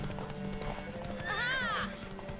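Horse hooves clip-clop under game music and voices in The Witcher 3, with a brief whinny rising near the middle; the steady gallop runs throughout at moderate loudness.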